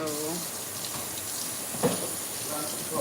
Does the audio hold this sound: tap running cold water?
yes